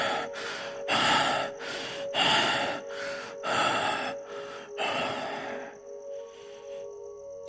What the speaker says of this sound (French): Your breath continues to rasp in rapid gasps.